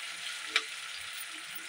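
Vegetables fry in a pan with a soft, even sizzle that holds steady, broken once by a single brief clink or stir near the start; quiet and close, with no talking.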